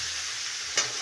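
Food frying in a pan is stirred, with a constant close sizzle and one brief scrape of the stirring near the end, with no voices.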